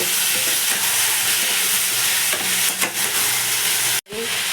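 Potatoes stir-fried in spices for a fish curry in a home kitchen: a steady close sizzle broken by scraping stirs, with a brief cut near the end.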